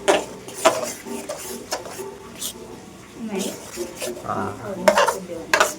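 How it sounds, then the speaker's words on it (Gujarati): A spoon scrapes and clinks against a pot as jaggery is mixed into lapsi in a village kitchen, irregular stirring knocks with faint sizzling, while someone talks alongside. "લે ગોળ એડ કરી દેવાનો છે અને મિક્સ કરવાનો છે."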